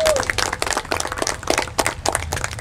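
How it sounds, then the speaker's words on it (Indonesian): A crowd applauds at a veterans' U40+ football final and jersey launch, giving a few seconds of scattered clapping with voices mixed in, neither very close nor very loud. "Tepuk tangan untuk kita semua ini."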